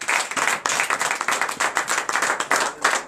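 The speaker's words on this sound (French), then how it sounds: "Donnez de vive acclamation." A church congregation claps in a steady, loud rhythm for about three seconds, the repeated hand claps close and continuous with a few voices mixed in.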